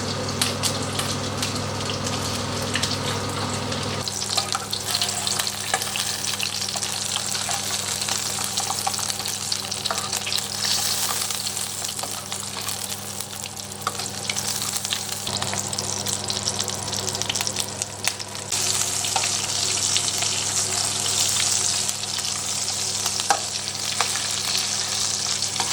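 Sausages (bangers) fry in a pan of butter and olive oil with a steady, close sizzle and crackle that runs unbroken throughout, with no talking.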